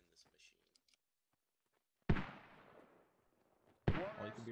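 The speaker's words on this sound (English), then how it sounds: "More mortars getting shot." Mortar rounds fired in the military shooter Squad, two sharp heavy thumps a couple of seconds apart, each with a rumbling decay, after a quiet stretch with faint sounds.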